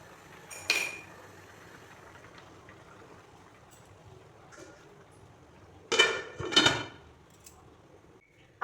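A lid set down over a pan of fried rice on a low gas flame, heard as a short metallic clink, then a louder double clatter of metal on metal a few seconds later, with quiet kitchen background between.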